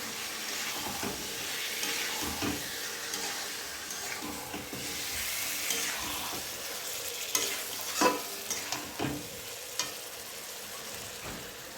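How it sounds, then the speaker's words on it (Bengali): Meat being stir-fried with ground spice paste in a pan: steady, close sizzling with scraping stirs and a few sharp spatula knocks, no voices. "তারপরে মাংসের এখানে মশলা দিয়ে দেবো, যে বাটা টাটা ছিল সেগুলো। তারপরে ভালোভাবে কষিয়ে নেব।"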